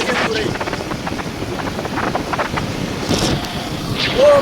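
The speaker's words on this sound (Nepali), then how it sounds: "चिसो चिसो हावा आउँदैछ क्या पुरै।" Cold wind gusts steadily across the microphone beside a swollen rainy-season water flow, a continuous rushing roar with brief voices faintly underneath.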